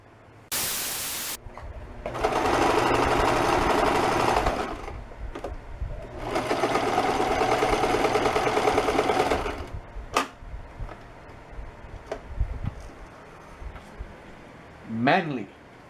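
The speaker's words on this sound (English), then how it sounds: "I'm sewing the seams pinched like this." A sewing machine stitches the seams of a piranha plant puppet in two long, steady bursts of rapid mechanical whirring, close and loud, separated by brief pauses with a few clicks and soft handling sounds.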